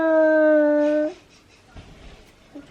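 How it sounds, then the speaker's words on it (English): A puppy lets out a single drawn-out, tonal whine lasting about a second, close and fairly loud, followed by quiet room noise and soft shuffling. "A puppy. A doggy."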